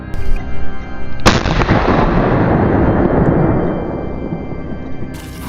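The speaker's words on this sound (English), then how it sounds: "The powerful shot hit the chest, causing the wild boar to collapse on the spot." One loud, sharp gunshot cracks outdoors during a wild boar hunt, followed by a long, booming echo that rolls away and fades over several seconds.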